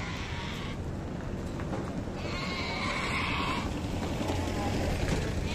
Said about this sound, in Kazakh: Жайлып кете берет мал базар.